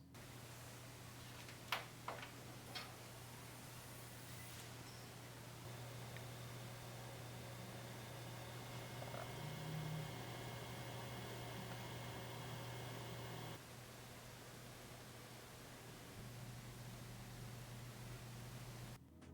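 An Arctic P12 PWM fan mounted on a CPU cooler gives off a quiet, steady airy whoosh with a low hum underneath. A few soft clicks come early on.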